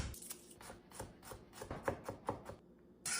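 A knife chops garlic cloves on a cutting board in a quick, uneven run of close, crisp taps that ends in a short pause.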